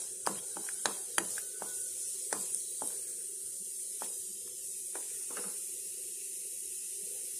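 Cashew nuts frying in melted ghee for moong dal laddu, a steady soft sizzle with scattered light crackles and pops, close and fairly faint.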